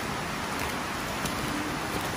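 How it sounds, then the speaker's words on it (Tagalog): Heavy rain pouring steadily outdoors, a dense, even hiss of falling drops with no break or voices. "Lakas ng ulan."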